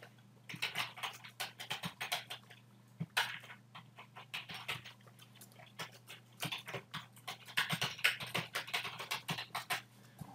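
Keys clatter on a computer keyboard in quick irregular bursts of typing, fairly close but quiet, with a low electrical hum beneath.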